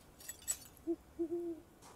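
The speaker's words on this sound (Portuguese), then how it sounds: "a coruja me assustou" An owl hoots in the video game Rosewood, sounding as four short, faint tones with the last drawn out, alone against quiet ambience.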